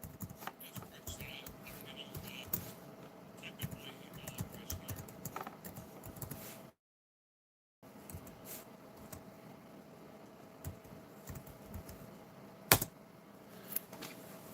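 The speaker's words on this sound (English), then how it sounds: "I'm going to type in my email address here." An email address is typed on a computer keyboard, a quiet, steady patter of close key clicks at an irregular rhythm with a brief pause midway and one sharper click near the end, with no talking.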